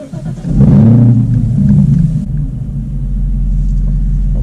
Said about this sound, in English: So let's fire this beast up.